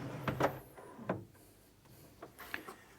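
Pan drawer on a Cooke & Lewis 1000mm unit being pushed shut, a few short wooden knocks and slides at close range in a quiet room, the sharpest clunks near the start and a softer pair near the end.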